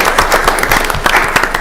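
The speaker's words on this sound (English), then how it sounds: "Actually, clap for that." Audience members clap at a school board of education meeting, a brief, uneven patter of separate hand claps from a modest crowd, close and fairly loud in a room.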